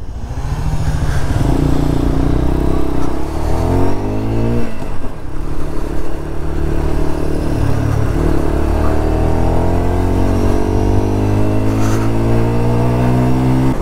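A Lexmoto LXR motorcycle accelerates in first gear, its engine revving loudly and steadily close by, the pitch climbing in repeated sweeps over a constant rumble.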